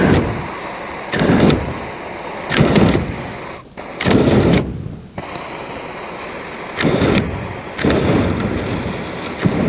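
X15 personal flamethrower shooting napalm in repeated loud whooshing roaring bursts, about five blasts separated by brief pauses, close and harsh with broad rushing noise.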